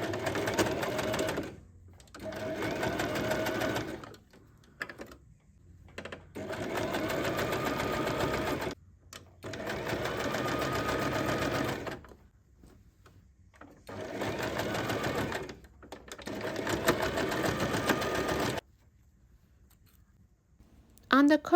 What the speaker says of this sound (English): So start the sewing from first notch and continue all the way to the other notch.